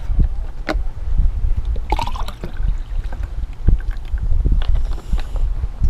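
Pineapple juice poured into a tropical bay breeze cocktail with Malibu coconut rum and cranberry juice, a close, steady liquid splash with a few clinks, no talking.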